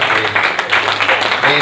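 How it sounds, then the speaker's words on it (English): A church congregation clapping hands in praise during a Sunday service, a loud, dense burst of applause that fills the whole short moment. "Somebody clap your hands and give God praise."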